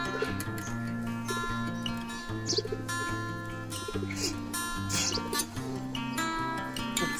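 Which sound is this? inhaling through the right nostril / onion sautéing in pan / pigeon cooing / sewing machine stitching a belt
pigeon cooing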